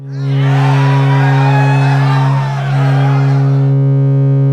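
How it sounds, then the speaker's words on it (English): A loud, buzzing synthesizer tone with harsh, gritty distortion holds steady and dips briefly near the middle before returning. "When you add the distortion here"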